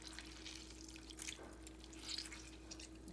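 Water drips and trickles off blanched daikon radish stems as they are squeezed and drained by hand after an ice-water bath, soft and close with small splashes and no talking.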